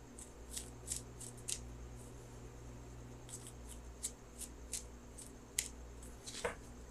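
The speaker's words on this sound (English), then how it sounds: "So I'm going to shuffle for that outcome card." Quiet, crisp shuffling of tarot cards comes in short bursts of riffling and flicking against a low steady hum.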